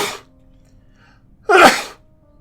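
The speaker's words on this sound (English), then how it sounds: "Oh yes, I absolutely chose to sneeze." A single loud, sharp sneeze from a person bursts out close by in an otherwise quiet room, preceded by a short tail of an earlier sound at the very start.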